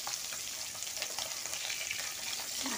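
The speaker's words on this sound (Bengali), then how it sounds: "এই পুঁটি মাছগুলো ভেজে নেব।" Small puti fish fry in hot mustard oil in a kadai, giving a steady, close bubbling sizzle with light crackling spatters and no voices.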